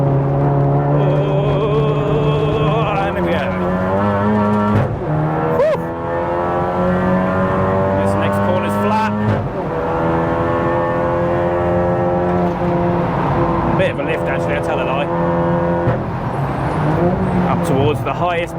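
A 500+ BHP big-turbo MK7 Golf R track car at the Nurburgring, its engine loud and close from inside the cabin, pitch climbing through the gears with shift dips, while someone talks over it.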